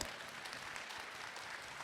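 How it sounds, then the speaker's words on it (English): Steady applause from a crowd at a gala panel, dense and continuous clapping filling the whole stretch with no voices standing out. "Let's big round of applause for the three ambassadors."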